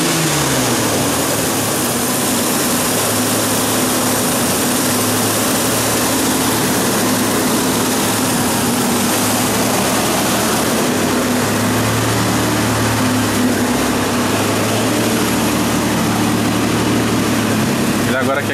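A Ford Ranger 4.0 OHV engine runs warm at high revs during a camshaft position sensor replacement, a loud, steady droning hum with occasional speech over it.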